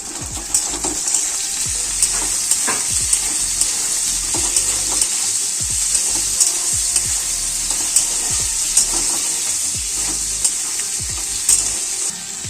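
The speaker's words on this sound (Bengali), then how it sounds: "এবার পেঁয়াজটা কিছুক্ষণ ভাজার পর আমরা এই ক্যাপসিকামগুলো দিয়ে দিচ্ছি" Capsicum and onions fry together in a pan, a constant hiss of sizzling with regular scraping stirs throughout, close and unbroken by speech.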